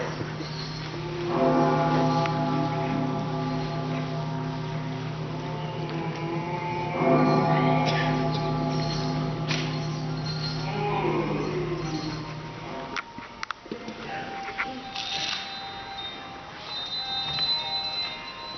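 A bell rings in long sustained, ringing tones that fade out, followed by quieter clattering and movement, during a stage performance of A Christmas Carol.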